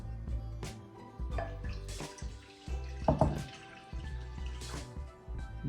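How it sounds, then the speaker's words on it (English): Warm water is poured into a mixing bowl for bread dough, a close, uneven splashing and trickling that rises and falls over a few seconds. "In this bowl, I'm gonna put my warm water."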